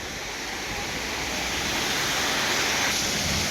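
Steady, dense rushing of water at Honnamma Devi Falls near Chikmagalur, a continuous broadband roar, fairly close and unchanging throughout.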